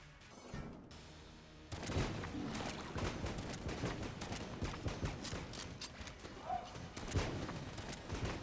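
A big shotgun firing in the video game Enter the Gungeon, a string of sharp blasts and clattering impacts following a short mechanical rattle, fairly busy and continuous with faint talk under it.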